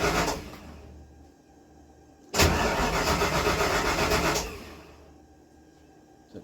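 A Trooper car's engine cranks and fires with a loud surge, runs rough for about two seconds, then falls back to a quieter uneven idle.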